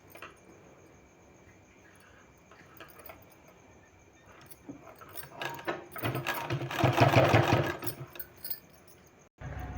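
A domestic sewing machine stitching a garment neckline, its motor whirring in short bursts that swell into a louder, steadier run near the end before stopping abruptly.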